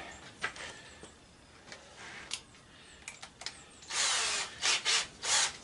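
A power drill whirs in several short bursts while tearing down a furnace for scrap, faint at first and then louder with longer runs near the end, with no talking.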